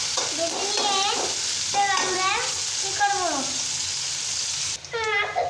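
Onions fry steadily in oil, browning for a tilapia dish: a constant close hiss and sizzle that briefly dips near the end, while a high-pitched voice speaks in short bursts over it.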